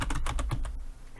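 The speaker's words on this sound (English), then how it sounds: "So I'm just going to type that in because it's not pulling up automatically." Rapid, steady keystrokes on a computer keyboard while entering an item name into a listing form, close and fairly loud with no talking over it.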